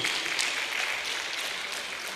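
Audience applause at a teacher award ceremony, a continuous dense patter of many clapping hands, loud and steady across the whole stretch.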